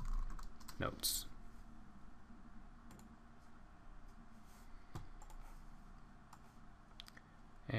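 Clicks of typing on a computer keyboard while entering a LaTeX document, a steady run of light keystrokes under a voice, with a louder cluster of presses near the start.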